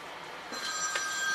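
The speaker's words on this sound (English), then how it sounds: "there goes that damn phone" A telephone rings indoors in a garage-like space near a 1976 Kawasaki Z1000 motorcycle, a fairly quiet electronic ring rising in short bursts over low background hiss, with no talking.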